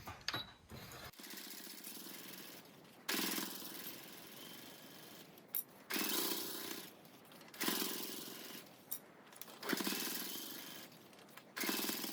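A sewing machine stitches together the layers of a child-size slipper boot, heard as a series of short, faint bursts of rapid mechanical rattling separated by brief quiet pauses.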